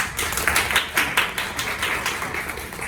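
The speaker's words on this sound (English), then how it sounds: "give her a round of applause" A small workshop group applauding, a brief burst of clapping that rises and fades over a few seconds.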